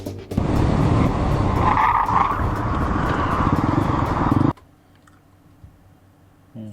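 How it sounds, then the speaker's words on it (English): Loud, close engine roar of a fleeing motorcycle on a road, revving hard and steadily for several seconds before cutting off abruptly into near quiet with a faint low hum. "The motorcycle rider makes one final attempt at escape."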